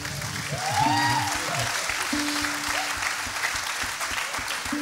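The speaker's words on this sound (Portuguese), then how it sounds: "merece um aplauso." Audience applause at a Portuguese fado music show, a steady wash of clapping that swells early and holds at moderate level while a presenter's voice and a tonal line sit underneath.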